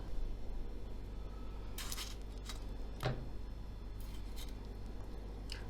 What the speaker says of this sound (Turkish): Bunları küçük küçük doğrayarak sosumuzun yapımına başlayalım.